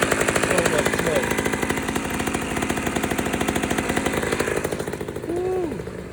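A rare 1982 Honda MB5 two-stroke motorcycle engine with a clogged, smoking pipe runs close and loud, its rapid ringing pulse steady throughout while a voice speaks briefly over it toward the end.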